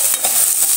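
Fresh clams stir-fried in a pan with salt, a brief loud hiss of frying with quick scraping stirs, close up.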